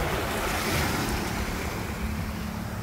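Sea waves at a beach resort in Tacloban City, a continuous roaring surf mixed with gusting wind noise on the microphone, loud and steady throughout.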